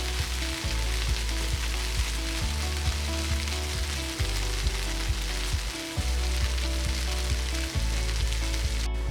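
Soya chunks dry roast in a hot pan, a steady loud sizzle with regular scraping strokes of a spoon stirring them throughout.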